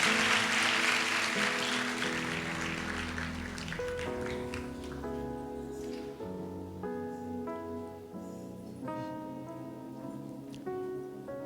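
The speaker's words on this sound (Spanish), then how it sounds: "Le damos un aplauso al Señor." Applause in a church congregation starts out fairly loud and soon thins, while a sustained piano or keyboard chord progression takes over and plays on underneath.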